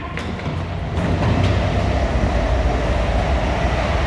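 A train passing through Leighton Buzzard station, a loud steady rumble that swells after the first second and holds, with faint rail clatter and no talk.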